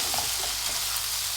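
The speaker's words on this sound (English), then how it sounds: "you see that sizzling now" Chicken frying in a pan, kebab style, giving a steady bright sizzle with a dense crackling hiss, close up and continuous with no talking.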